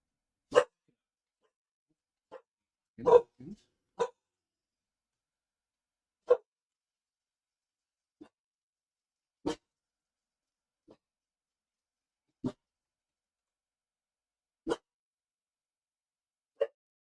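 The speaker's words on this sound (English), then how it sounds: "Sorry about the barking." A dog barks sharply about ten times, single isolated woofs spaced a second or more apart with silence between, fairly close and loud.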